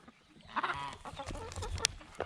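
Backyard chickens clucking as feed is scattered on the ground, a busy overlapping flock of short clucks and calls at close range with no talk.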